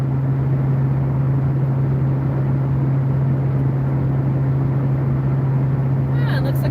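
A 1981 Ford Capri cruises along the road, its engine holding a steady, loud low drone with constant road noise and no break in the sound.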